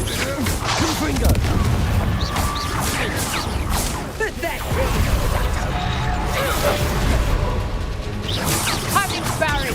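Blasting-spell explosions in the video game Hogwarts Legacy, a dense run of booms, crashes and whooshing bursts layered over battle effects, loud and continuous, with a voice shouting spell names over the combat.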